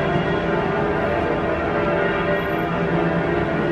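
The bell of the Dome Cathedral rings loudly and continuously, its ringing tones blending into a dense wash with no pauses and no voices.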